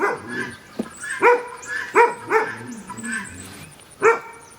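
A dog on a homestead during a carrot harvest gives several sharp, close barks and yips at irregular intervals, with whimpering between them.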